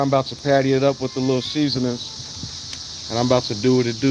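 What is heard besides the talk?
locusts buzzing outdoors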